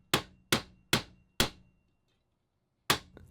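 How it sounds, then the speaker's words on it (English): A hammer strikes a steel punch to drive a drilled rivet out of a sturdy aluminum crossover plate on an Altec 887A, giving four evenly spaced sharp metallic knocks, a pause, then one more hit, with no voices. "I could use a punch to push it out."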